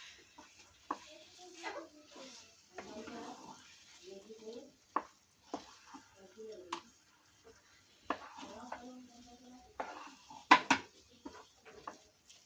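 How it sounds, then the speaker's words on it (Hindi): Suji halwa stirred in a pan with a spoon after the gas is turned off, soft irregular scrapes and clinks of metal on the pan, with someone talking between them. "अब हमें गैस बंद करके इसको चलाना है।"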